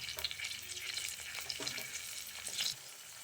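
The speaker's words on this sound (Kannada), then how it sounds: "ಇವಾಗ ಹಸಿಮೆಣಸಿನ್ಕಾಯಿ ಹಾಕೊಳ್ಳೋಣ" Green chillies sizzle and crackle steadily in hot oil in a pan with onions, a continuous close frying hiss with occasional stirring scrapes.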